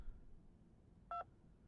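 A single short two-tone phone dialing beep rings out over quiet room tone as a call is placed to Takashima's phone in a visual novel.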